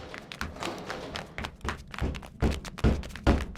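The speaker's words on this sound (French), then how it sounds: "Il est en train d'essayer d'ouvrir la porte pour accéder à la salle du fertilisateur" A character in a sci-fi adventure game tries to open the door to the fertilizer room. The sound is a run of dull thuds and taps that grows louder toward the end, with no talking.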